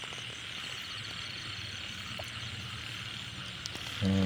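Frogs croak continuously in a rice field at night after rain, a dense, steady chorus of overlapping calls with insects buzzing, ending in a short louder close sound.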